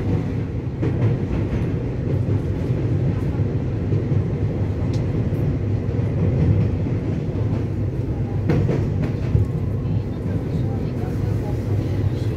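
The EMU885+EMU886 second-generation electric commuter train departs Ruifang station on the mountain line toward Chiayi, heard as a steady, loud rumble and rolling rail noise filling the scene, with a few faint clicks over it.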